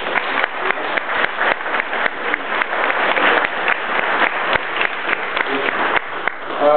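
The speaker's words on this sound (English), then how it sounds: "I think we should start with a round of applause for the landing of the keel" An audience in a hall applauds the landing of a ship's keel at a ceremony, with many hands clapping in a dense, continuous burst that stays strong throughout and eases slightly at the very end.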